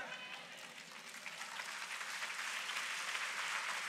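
A church congregation at a worship service claps, the applause building from a moderate patter into fuller, steadier clapping by the end, heard at a modest distance.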